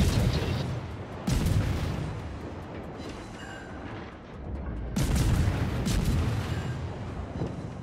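Heavy naval guns boom from a warship in World of Warships, with two big, rumbling salvos that roll on in a long, loud wash and nobody talking.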